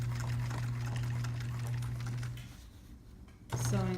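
A sewing machine runs steadily while topstitching along the edge of a backpack, a continuous mechanical hum that cuts out near the end and then starts again.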